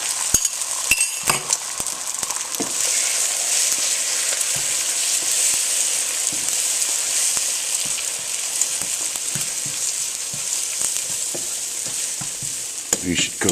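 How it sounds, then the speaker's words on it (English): Eggs frying in a pan right after leeks were cooked, a steady close sizzle with occasional clicks and clinks of a utensil against the pan, no talking. "I'm going to get my eggs going"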